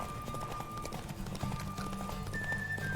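Horse hooves clip-clop at a quick gallop in The Witcher 3, with a short whinny, all under game music and ambient tones.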